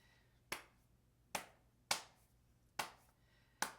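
Hands clap out a 3-3-2 tango rhythm for the Canaro tango El Choclo, five sharp, close, uneven claps alone in a quiet room.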